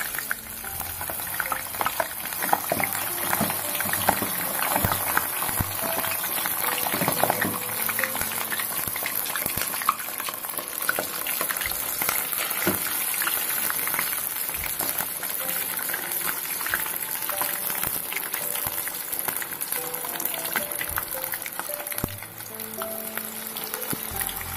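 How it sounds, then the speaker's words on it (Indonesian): Frozen vegetable fritters (bakwan) sizzle and bubble steadily in hot oil, a continuous dense crackle close by with no talking, staying even throughout. "Walaupun dalam kondisi beku kita goreng, tapi ini menggorengnya sama saja dengan adonan bakwan"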